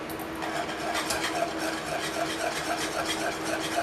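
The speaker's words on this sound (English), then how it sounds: "and just whisk, whisk, whisk" Whisk beating vanilla extract into banana pudding in a pot, a quiet rhythmic scraping swish repeating steadily and close, with no talk.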